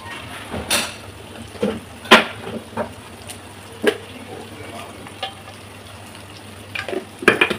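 Dried and green chilies with chili powder frying in hot oil on low to medium heat for chepa shutki bharta, a quiet steady sizzle broken by sharp scraping clinks of a stirring spoon, close and alone.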